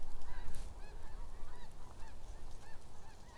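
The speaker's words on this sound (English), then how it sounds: "Ooh, look at all the geese." Geese honk repeatedly near a garden center, a scattered flock calling at a moderate distance over steady outdoor background noise.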